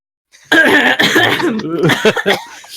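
A person coughs and sputters in a sudden loud, close burst of several rough coughs and spluttering breaths, fading into smaller choking sounds.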